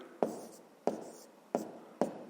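A pen writes out a fifth-grade math solution by hand in four quiet, close strokes, each starting with a sharp tap and trailing into a soft scratch, at an even pace.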